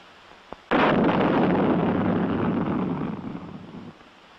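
An Honest John rocket fires from its launcher rail with a sudden loud blast, a faint click just before, then a sustained roaring rush of propellant burn lasting about three seconds before cutting off, with no voices.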